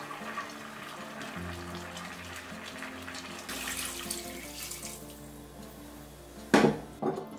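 About 600 ml of water is poured into a pot holding stir-fried anchovies and kelp root for a doenjang soup broth. The water makes a continuous rushing splash, and a brief clatter of the pot comes near the end.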